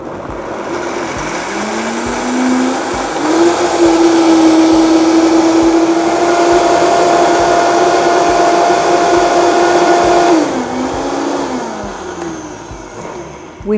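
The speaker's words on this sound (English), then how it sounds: "We're just going to go ahead and blend that up" A countertop blender purees cashew sour cream: its motor spins up, holds a steady high whir for about eight seconds, then winds down and stops.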